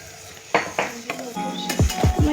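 Chopped tomatoes drop into a frying pan with several sharp clattering hits of utensils against the metal pan, close and fairly loud.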